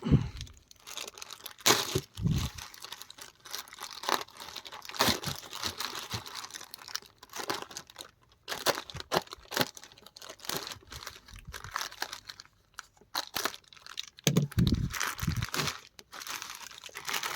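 Plastic and cardboard packaging of Match Makers Goku and Super Android 17 figurines crinkles and tears open up close, in irregular rustling bursts with brief pauses and no talk.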